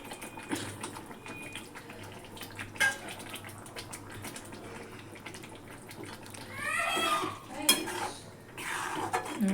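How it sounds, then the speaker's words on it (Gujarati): Green corn kernels tipped into a pan of hot oil and gravy for a Gujarati corn curry, clattering against the metal pan and stirred with a utensil, with brief scraping and sizzling bursts near the mic. "હવે આપણે મકાઈ નાખી દઈએ"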